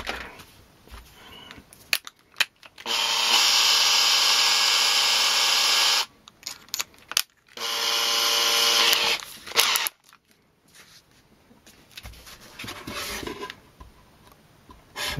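A drill cutting a countersink into a model Titan base, with two sustained close bursts of high-pitched whine separated by a short pause, and light handling clicks and taps before and after.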